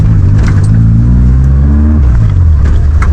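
A Suzuki Gypsy off-road vehicle in good condition drives with a loud, close engine drone that rises and falls as it shifts through gears, with no talking.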